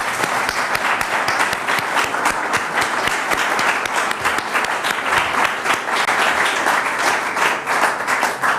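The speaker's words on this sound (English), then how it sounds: "If you join me in a round of applause." Audience applause after a policy talk, steady dense clapping filling the room at full volume with no voices over it.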